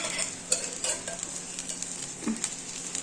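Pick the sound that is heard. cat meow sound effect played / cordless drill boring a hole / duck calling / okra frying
okra frying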